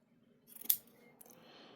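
Scissors snip through athletic pants fabric while trimming a hem seam, one or two crisp close cuts in a quiet room.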